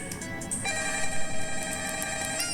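A phone rings during a call in the horror video game Five Nights at Frickbear's 3, a steady electronic ringtone with repeated bright pulses over a constant background hum, no talking.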